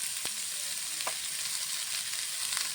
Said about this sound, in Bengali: সবজিটা ভালো করে ভেজে নেবো